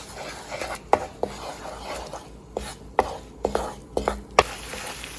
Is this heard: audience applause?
no